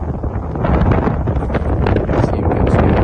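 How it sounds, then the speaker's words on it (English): Steady gusty wind buffets the microphone on an open ranch pasture while horses and Wagyu cattle are being moved, a loud broadband roar running throughout with no clear speech. "It's kind of windy."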